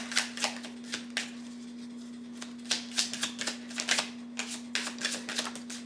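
Tarot cards are shuffled and drawn in quick, crisp riffling bursts of papery flicks, close and clear with short pauses between runs, over a steady low electrical hum and no talking.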